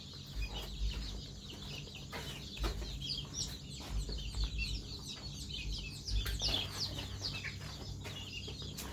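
Several sick native chickens with a cold cluck and chatter together, fairly close, over a steady low rumble, with the clucks coming in irregular bursts throughout.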